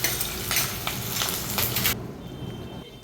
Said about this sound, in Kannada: ನೆಕ್ಸ್ಟ್ ಬಂದು ಮೆಣಸಿನ್ಕಾಯಿ ಹಾಕ್ತಾಯಿದ್ದೀನಿ. ಅದು ಸ್ವಲ್ಪ ಫ್ರೈ ಆಗಬೇಕು.